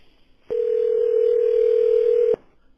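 Steady single-pitch phone dial tone at the start of a recorded call, starting abruptly, holding for about two seconds, then cutting off sharply, loud and clear with near silence around it.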